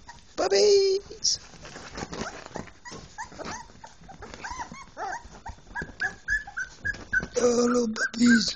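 Puppies whimper and squeal in high, thin bursts, loudest at the start and end, while a person talks over them in between.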